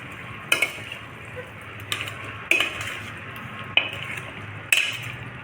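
Surti undhiyu vegetables are stirred in a pot, a spoon clinking sharply against the metal about five times over a low, steady simmer.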